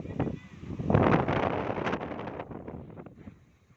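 Strong wind by the sea on the Quezon coast near rock formations buffets the microphone in loud rumbling gusts that swell and then fade, with faint voices mixed in.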